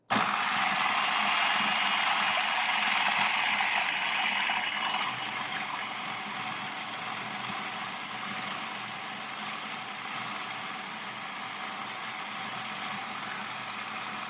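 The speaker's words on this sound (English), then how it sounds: "So I'm just going to turn this on and then pour this into the feed tube" Food processor motor whirs steadily and loudly while oil is poured into the feed tube, a continuous broadband hum that eases slightly in pitch partway through, with no talk.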